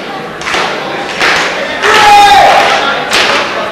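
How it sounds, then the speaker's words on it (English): Two professional wrestlers hit a double clothesline at a Holiday Havoc event and fall to the mat, heard as heavy thuds amid a loud, roaring arena crowd with cheering swells. "They both hit a clothesline at the same time."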